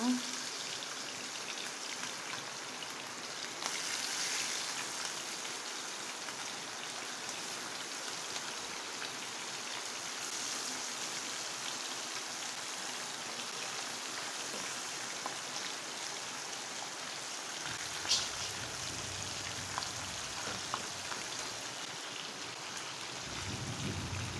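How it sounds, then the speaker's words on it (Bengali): Rain falls outside in a steady, even hiss that lasts the whole stretch, with a few faint drips and low rumbles underneath. "বন্ধুরা, অনেক সুন্দর বৃষ্টি হচ্ছে বাইরে।"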